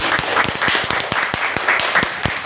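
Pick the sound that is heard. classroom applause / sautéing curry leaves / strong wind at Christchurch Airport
classroom applause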